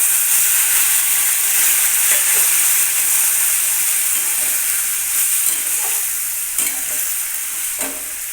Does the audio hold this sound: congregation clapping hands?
no